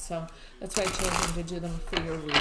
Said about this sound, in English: I'm going to shuffle it again in front of you so you can see how that I've shuffled them nicely.